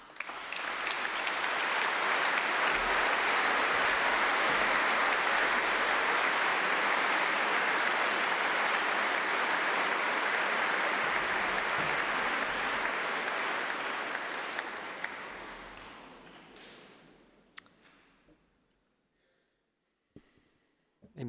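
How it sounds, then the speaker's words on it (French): Sustained applause from a congregation fills a church at an ordination ceremony, steady and dense for about fifteen seconds before thinning out to a few scattered claps and quiet room noise. "nous pouvons applaudir maintenant"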